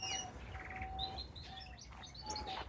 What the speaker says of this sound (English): Who doesn't love a canary?